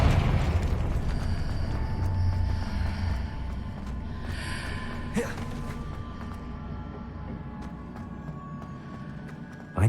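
A Confringo blasting spell in Hogwarts Legacy sets off a deep, rumbling explosion that rolls on and slowly fades, with a brief sharp crackle midway and a fresh thud at the very end.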